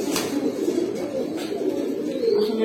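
Racing pigeons coo in soft, throaty murmurs, a continuous low burbling close by with no talk over it.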